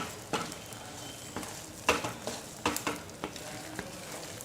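Jaggery and flour being stirred together in a pan for sukhdi, a soft steady sizzle broken by repeated scraping strokes of a spoon against the pan, close and fairly quiet.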